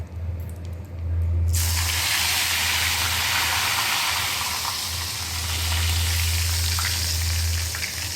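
Asafoetida and curry leaves hit hot oil for a dried-shrimp fry, bursting into a loud, continuous, close sizzle that starts suddenly and holds steady to the end.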